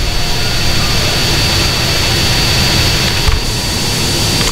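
The Hydra jet in the video game GTA San Andreas gives a loud, continuous, steady jet-engine roar with a thin whine on top and no talk.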